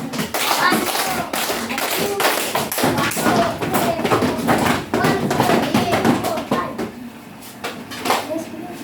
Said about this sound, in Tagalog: bigyan natin ng 5 palakpak at 5 padyak ang group 2